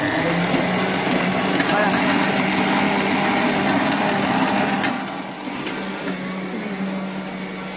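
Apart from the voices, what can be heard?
food processor kneading pizza dough at higher speed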